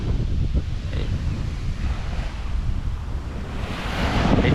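Ocean waves at a beach in Corsica, a continuous low roar of surf mixed with strong wind buffeting the microphone, swelling slightly toward the end, with no talk.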